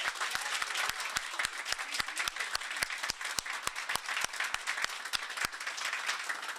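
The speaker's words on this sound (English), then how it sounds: "I want to give you a big round of applause." A round of applause from the audience at a governor's bill-signing event, a dense wash of clapping with sharp individual claps standing out in a fairly even rhythm throughout.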